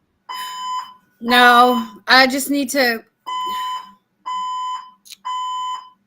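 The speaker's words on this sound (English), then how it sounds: "a fire alarm going off, and there's nothing I can do about it" An indoor fire alarm sounds in loud, repeated electronic blasts of a sharp, high tone, with short gaps between them, while a person speaks briefly between and over the alarm.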